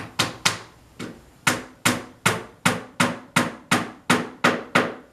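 Sharp hammer blows drive finishing nails into the frame of a recessed screen door, about a dozen crisp strikes in a steady, slightly quickening rhythm, close and loud with no talk.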